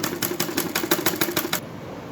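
A sewing machine runs a quick burst of about ten evenly spaced stitches along the neck strip of a lined suit, then stops, leaving a faint high whine behind; the sound is close and clear with no talking.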